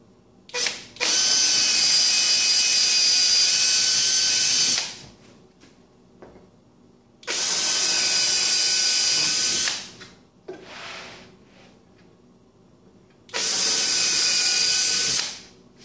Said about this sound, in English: I'm going to come back through and drill into the bottom with that bit after I get it clamped together